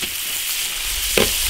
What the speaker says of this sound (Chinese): 烧油，下腊肉炒。